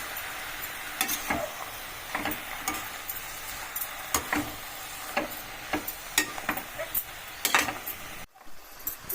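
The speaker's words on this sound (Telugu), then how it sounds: "ఇలా మగ్గుతున్నప్పుడు ఇది తొందరగానే ఉడుకుతుందండి" A pan of brinjal and fenugreek-leaf curry sizzles and bubbles steadily while a spoon scrapes and stirs through it in irregular strokes, up close and alone.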